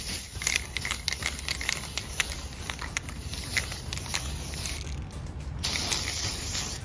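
A spray can gives a steady hissing spray with repeated short bursts and faint mechanical clicks while coating a glitter rose bouquet, continuous across the whole clip at moderate loudness.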